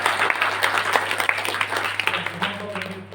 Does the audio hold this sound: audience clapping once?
yes